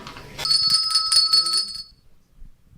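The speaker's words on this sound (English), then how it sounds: "Now, where's my bell?" A bell rings in a rapid series of bright metallic strikes for about a second and a half, then fades, with faint studio noise underneath.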